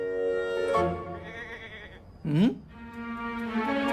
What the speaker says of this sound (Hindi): बकरा तो बकरी की ही आवाज पे आएगा ना